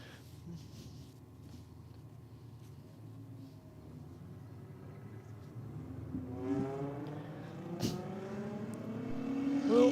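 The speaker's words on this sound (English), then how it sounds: "we've got the Foz about to come out now against the P-Plater and the Commodore" A Ford Falcon, a Commodore and a P-plater's car at a street-legal drag racing event, engines rumbling at idle and then revving up with rising whines, growing louder toward the end.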